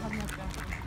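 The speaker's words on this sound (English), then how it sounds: "Wild duck emerges from the water" A wild duck emerging from the water at Blijdorp zoo in Rotterdam gives a short burst of quacks, close and moderately loud over outdoor background noise and a nearby voice.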